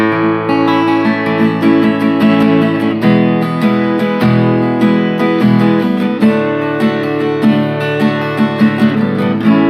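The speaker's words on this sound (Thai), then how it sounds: "อันนี้คือเสียงกีตาร์เปล่านะครับผม" Takamine PT106 acoustic guitar played unplugged, steady strummed chords with picked notes, close and clear, no voices.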